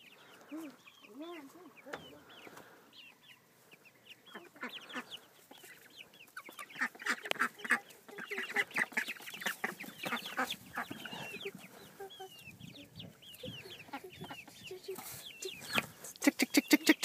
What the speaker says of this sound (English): another one of those chickies came up and took my bread and the ducky picked me